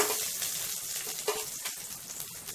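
Green chili dropped into hot oil with garlic, giving a steady close sizzle and crackle of frying with a few small pops, no talking.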